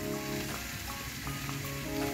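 Onion, diced tomato and grated red pepper frying in a hot pan, a steady close crackling sizzle with light stirring, no talk.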